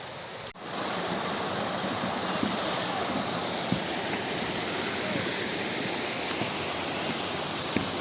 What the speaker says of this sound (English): There's a lovely stream down there with surprising amount of water flow. You can probably hear it is quite loud